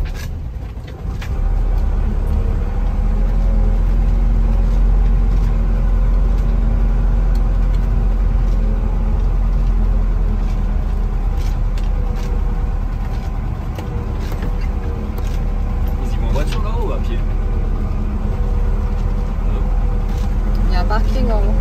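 Car rumbling along a badly broken-up road toward a waterfall parking area, a steady low engine and road drone with occasional rattles and bumps throughout, heard from inside the vehicle.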